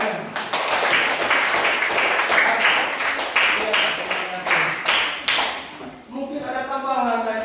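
Classroom audience clapping in a dense burst of hand claps lasting several seconds, then fading as a voice begins speaking over the tail end.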